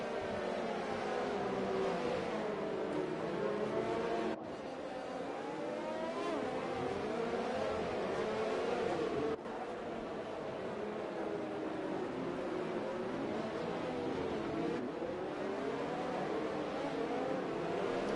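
Several F1 race cars in a Monaco Grand Prix video game run behind the safety car, their engines droning steadily with shifting pitch as they rise and fall together through the lap, loud and continuous with no talk.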